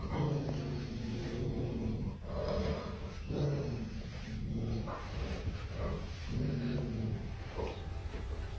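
Dog upstairs in a house, heard as muffled, low snorting and growling sounds rather than clear barks, repeating irregularly over a steady background hum, somewhat distant and indistinct.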